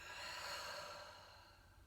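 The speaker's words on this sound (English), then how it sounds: "take a deep breath in and out of the mouth" A deep breath in and out through the mouth during a yoga flow, a soft airy exhale that is quiet and close and gradually fades, with no talking.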